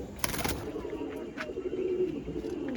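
A pigeon feeding its young coos softly nearby, with low repeated murmurs and a brief rustle or flap near the start, heard alone without speech.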